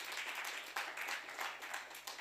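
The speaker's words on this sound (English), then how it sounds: "let's give them a round of applause as well" Faint, distant audience applause at an arts workshop at Legends with a musician, scattered clapping over a low steady hum.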